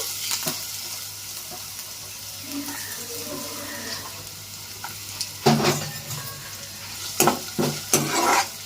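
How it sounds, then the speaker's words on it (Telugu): Ginger fries in oil in a pan for a chutney, hissing steadily with a soft sizzle and sharper spatula scrapes and clinks that grow louder in the latter half, with no speech. "ఇప్పుడు అదే నూనెలో అల్లం కూడా వేయించేస్తున్నానండి"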